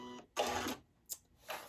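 A sewing machine stitching down the side of a fabric face mask, heard close in short motor bursts: a longer run of stitches, a brief burst, then another run, with quiet pauses between.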